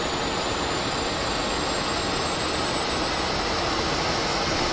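A MiG-15bis jet engine with a large centrifugal compressor wheel, from a combat flight simulator, gives off a steady, dense, whining roar with no breaks.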